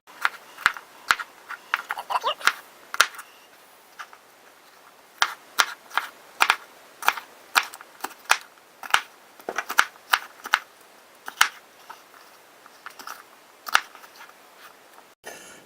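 Knife chopping ingredients for slow-cooked stuffed peppers on a cutting board, a quick run of sharp, close taps coming in irregular clusters with short pauses, fairly crisp and alone without talk.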